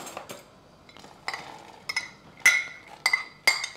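A cooking pot handled in a home kitchen while making Persian fish stew, giving four or five sharp metallic clinks and knocks spaced about half a second apart, fairly close, with no talking.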